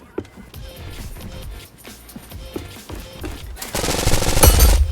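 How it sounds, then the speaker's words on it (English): Rapid gunfire in Roblox Siege, with sharp shots that build into denser automatic bursts and grow louder toward the end, up close and alone. "This gun sounds amazing."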